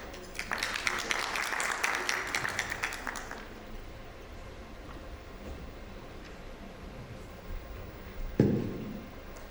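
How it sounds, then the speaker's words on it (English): Audience at an academic innovators session gives a brief burst of clapping that dies away after about three seconds, leaving quiet room tone and a single thump near the end. "Please, round of applause"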